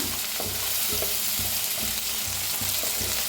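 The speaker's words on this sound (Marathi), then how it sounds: "छान असं भाजून घेऊया खूप छान होते ही भेंडी" Okra sizzles steadily in a hot pan with onion, tomato and a little coriander, while a spoon scrapes and stirs it in a regular rhythm of roughly two strokes per second, close and clear, with no talking.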